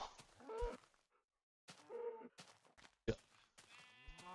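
Sheep in Minecraft Beta 1.7.3 let out a few short, quavering bleats in separate bursts with brief silences between, fairly clear and close, with no talking over them.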